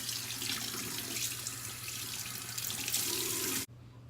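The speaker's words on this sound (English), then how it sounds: "We're rinsing it in lukewarm water." A tap runs with lukewarm water in a sink while a face is rinsed, a steady close gushing stream with faint splashes that cuts off abruptly near the end.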